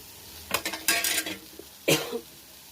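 A spoon scrapes and clinks against a pan while coriander powder, chili and salt are stirred into frying carrots, coming in two short bursts of metallic scraping with quiet gaps between.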